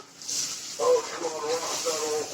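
Water poured into a hot pot of seasoned chicken for shish tawook, giving a brief steamy hiss and sizzle, with a voice talking over it.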